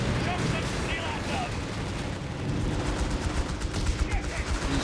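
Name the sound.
machine gun fire in video game Company of Heroes 3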